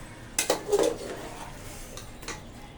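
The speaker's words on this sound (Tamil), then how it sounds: "இப்போது நம்ம தக்காளி கட் பண்ணி வச்சுருக்கோம், தக்காளி போட்டுக்கலாம்" Chopped tomatoes tipped into a pan of frying chicken, a few sharp clatters and clinks of pan and utensil near the start, then quieter scraping with a faint click near the end.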